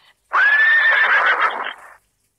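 A horse gives a single loud, close whinny, rising then wavering and trailing off over about a second and a half, alone in silence.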